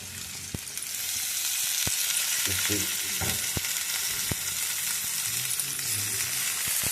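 Oil sizzling in a pan for Andhra gongura mutton curry as curry leaves go in with onions and ginger garlic paste, a steady close hiss with sharp spoon clicks and stirring scrapes.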